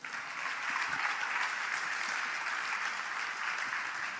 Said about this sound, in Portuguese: Se você recebe, dê um aplauso ao Senhor.